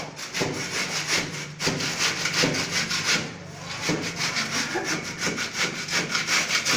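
A trowel plasters a lightweight brick wall with steady, rhythmic scraping and rubbing strokes that repeat close and loud throughout, with no talking.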